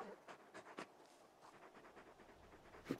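Torgal, the big dog from the Final Fantasy 16 video game, pants in quick breathy bursts with a few soft whimpers, fairly close and quiet.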